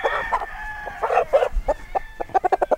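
Indigenous oriental chickens kept in a backyard in rural Mindanao cluck and cackle nearby, a run of loud bursts that quicken into rapid evenly spaced clucks at the end.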